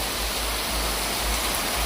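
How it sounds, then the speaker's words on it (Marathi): Heavy rain pours steadily over Phaltan town, a dense, even hiss that fills the whole span without a break and with no voices. "फलटण शहरामध्ये पुन्हा एकदा दमदार पावसाला सुरुवात झालेली आहे"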